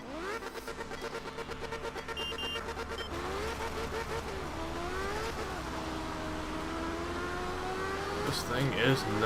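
Rally car engine in Art of Rally, the Gateki 45 in full rally livery, droning steadily with rising and falling revs throughout, with a short burst of extra noise near the end and a voice talking over it.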